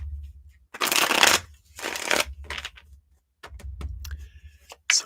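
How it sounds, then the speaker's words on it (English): Tarot cards shuffled by hand in bursts of riffling and sliding, close and fairly loud, with short pauses between bursts and a low background hum. "Let's shuffle these up."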